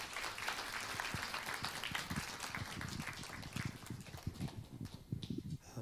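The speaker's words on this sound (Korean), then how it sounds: "우리 큰 박수로 환영해 주시겠습니다" A church congregation claps in welcome as an evangelist comes forward during a Korean worship service, a dense, even patter of hands running the whole length without voices.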